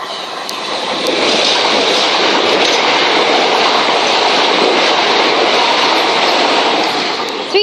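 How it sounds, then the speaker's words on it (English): A Class 377 fast northbound train from Horsham to London Bridge passing through Honour Oak Park station on the Brighton Main Line, a loud close roar and clatter of wheels that swells and holds steady for several seconds. "the next train to pass by is a fast northbound service to London Bridge from Horsham"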